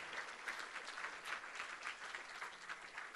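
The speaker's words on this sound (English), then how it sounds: "let's give them some love and some round of applause." Distant, faint applause from an audience in a hall at a Sikh community gathering for an NDP leadership victory, steady rippling clapping from many hands that continues evenly without speech.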